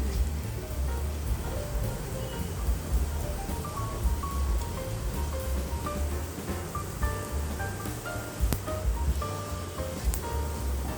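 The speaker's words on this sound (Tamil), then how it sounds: "இப்போ கடுகு பொரிஞ்சிட்ருக்குது" Mustard seeds spluttering in hot oil for vendhaya rasam, a dense steady crackle and sizzle with scattered sharper pops, close and continuous throughout.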